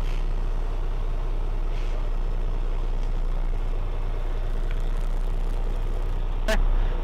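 A Volvo truck with an I-Shift automated transmission rumbles steadily at low speed in a crowded parking lot, its engine a constant deep drone, with a brief sharp hiss near the end and no talking.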